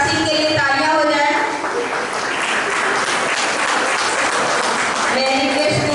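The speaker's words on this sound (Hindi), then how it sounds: "रीता सिंह के लिए तालियां हो जाए।" An audience at a B.Ed. and D.El.Ed. award ceremony breaks into sustained, loud applause, with a voice heard briefly at the start and again near the end over the clapping.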